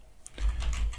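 A PLC program comment is typed on a keyboard, with a few sharp key clicks over a low rumble, fairly close and without speech.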